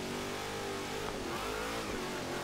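A Hot Wheels Twin Mill, a monster car with roughly 16 litres of displacement and over 1000 kW, revs its engine in Forza Horizon 3, a fairly quiet, steady roar holding for a couple of seconds.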